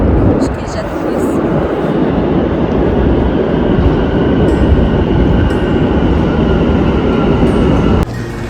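Almaty metro train riding between stations, a loud continuous roar of the underground carriage from inside, steady throughout and dropping off abruptly near the end, with speech mixed in.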